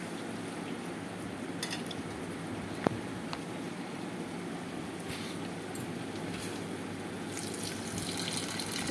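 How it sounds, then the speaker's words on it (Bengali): Water poured into a cooking pot of chana dal, a steady low gushing wash running the full length at moderate level, with no talk. "এবার আমি দিয়ে দেব পরিমাণ মতন জল।"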